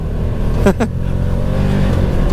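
A 2021 Can-Am Commander XT side-by-side holds a steady, loud engine drone while climbing steep, snowy terrain, with a brief rising rev partway through.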